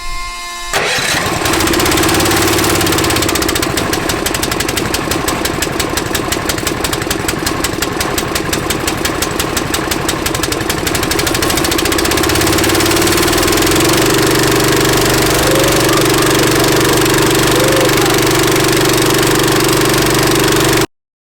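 A Honda GX160 small engine driving a 2 kW cogeneration alternator to charge a 12 V battery bank starts with a brief crank, then runs at a loud, steady close drone whose pitch shifts slightly partway through.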